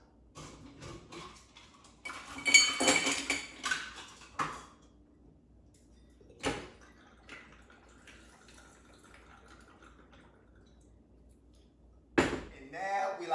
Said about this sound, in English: Now we're gonna add ice and 2 ounces of our cachaça.